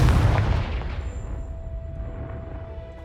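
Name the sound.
Confringo spell blasting a pile in Hogwarts Legacy video game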